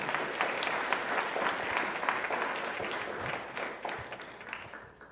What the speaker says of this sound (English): Please give it a big round of applause for Rachel